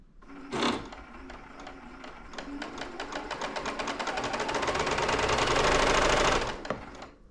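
A Juki sewing machine runs at high speed after a cleaned and repaired foot controller is plugged back in. Rapid stitching clatter starts at the top of the clip and speeds up steadily into a dense, loud whir before it stops abruptly.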